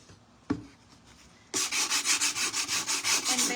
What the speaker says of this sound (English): Okay, so we're sanding just the bottom part.